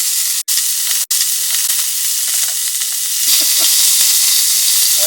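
A Gasmate portable gas stove hisses steadily in a van, a loud, close, broadband rush that cuts out twice for a moment early on and then continues unbroken.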